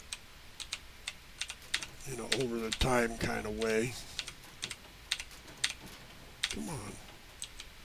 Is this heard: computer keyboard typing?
yes